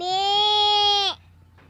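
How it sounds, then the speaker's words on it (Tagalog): A goat gives one loud, close, drawn-out bleat of about a second that wavers and trails off, followed by faint background noise. "Ang goat ni Mami Lord ano sound?"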